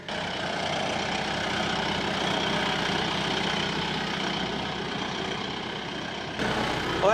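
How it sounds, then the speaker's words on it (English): A side-by-side utility vehicle drives across a field at a fence-building site, its engine a steady close rumble throughout, with a slight change near the end. "we're gonna take the side-by-side out here first, see how bad it ruts it up"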